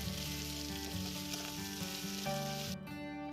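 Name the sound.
prawns frying in oil in a kadai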